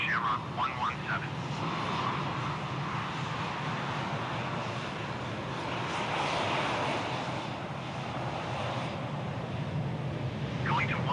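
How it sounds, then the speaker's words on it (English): A United 777-200 airliner going around at Washington Dulles in Microsoft Flight Simulator 2020, a steady broad engine roar that swells and eases over several seconds, moderately loud and continuous with no talk over it. "We have a United 777-200 coming in on runway 1 left."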